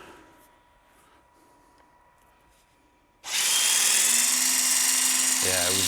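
After a quiet stretch, a HYTORC wheel gun starts up on a centerlock wheel nut with a sudden, loud, sustained whirring buzz, and a rising mechanical tone comes in at the end.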